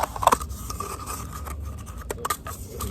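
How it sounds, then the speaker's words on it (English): Scissors cutting material in half to make homemade seed-starting plant pots, heard as close, faint snipping and scraping with a few sharper cuts near the start and toward the end. "so what I'm going to do is cut it in half first"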